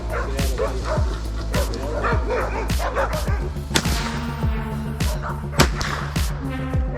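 A hunting dog barks at a boar during a pig hunting competition near Cooktown: loud, rapid, frantic barks and yips close by, repeating through the whole stretch, with some people talking over them.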